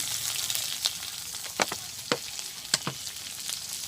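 Grass carp frying in oil in a village kitchen, a steady sizzling hiss with a few sharper pops and crackles scattered across it, close and moderately loud, with no talking.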